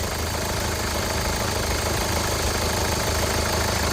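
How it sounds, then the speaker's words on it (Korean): A 2014 2200cc diesel minivan engine idles steadily at close range, a continuous low rumble with a faint rhythmic knock, unchanging for the whole stretch. "무사하고 노유 없는 깨끗한 차량 엔진 사운드 들어보시기 바랍니다"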